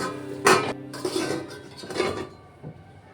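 A lid goes onto a cooking pot of sea fish chorchori with a few close clanks and metallic rattles as it settles, then a small final clink.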